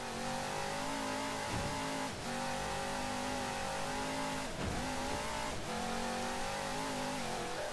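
The Warthog vehicle in the Halo 4 video game drives with a continuous, loud engine drone that rises and falls as it revs. Brief dips and whooshes cut through the steady rumble, and no voices are heard.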